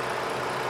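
The 3.5-liter V6 engine of a Ford Explorer runs at a steady idle, a smooth continuous broadband drone with no talk over it.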